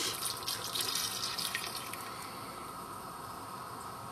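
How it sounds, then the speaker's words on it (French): Chicken broth followed by milk poured into a pot for a leek velouté, a steady close splashing trickle of liquid that softens toward the end, with no talking. "on va ajouter notre bouillon de volaille. Et 60 centilitres de lait."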